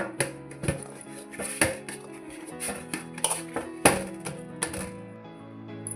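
Rice flour dough kneaded by hand for North Karnataka akki holige, heard as irregular close slaps, taps and clinks against a plate or vessel at a busy uneven rhythm, with no talking.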